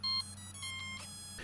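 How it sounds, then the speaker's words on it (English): An Airwolf-style Razordon 1/34 scale GPS RC helicopter gives a short electronic beep at power-on, a brief close tone followed by faint tonal chirps in a quiet room. "she beeped at me and started right up"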